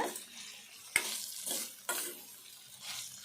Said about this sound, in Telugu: ఈ కాకరకాయ ముక్కలు ఇట్లా వేగినాక